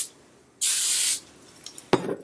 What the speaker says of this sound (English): And then I'm going to spritz some hairspray.